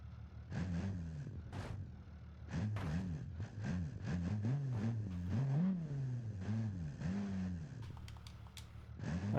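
A small offroader engine in BeamNG strains up a hill, its pitch rising and falling in repeated surges of revving, moderately loud and steady for several seconds.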